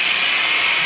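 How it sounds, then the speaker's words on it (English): A handheld electric drill motor spins the crank of a rotary table for cutting round graphite molds, giving a steady, loud, unbroken whir with no pauses. "I can just hit the trigger on my drill motor and rotate."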